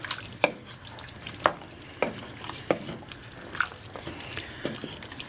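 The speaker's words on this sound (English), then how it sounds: "give them a stir." A spoon stirs drained pinto and red beans in a chili pot, giving a few soft, wet scrapes and clinks at irregular intervals over a faint, low simmer.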